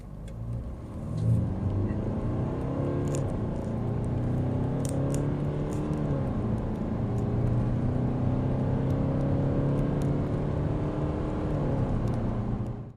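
A Mercedes W212 E250 CDI with a 2.1-liter four-cylinder diesel accelerates hard, its engine note rising and dropping through gear changes in a steady, loud drone that lasts throughout.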